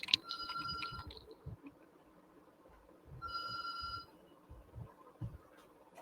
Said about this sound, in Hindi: यार फोन एक लैंडलाइन बज रहा है